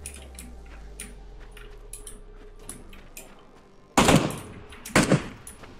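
An MP5K submachine gun fires in the battle royale game PUBG. Two short, sharp bursts land a second apart over quiet game ambience and faint ticking, with no talk.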